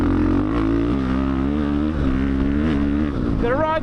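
Electric dirt bike ridden steadily, a constant close motor whine with shifting harmonic tones, rising in pitch near the end as it accelerates; a voice may be faintly present beneath.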